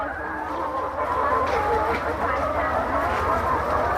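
Laying hens on a layer farm, some of them sick, clucking in a low, continuous murmur with a few louder cackles rising over the steady flock noise.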